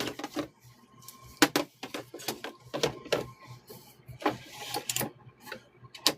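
An embroidery sewing machine stitches a quilt square, its needle working in rapid rhythmic bursts of mechanical clatter that start and pause repeatedly, close and clear with no speech.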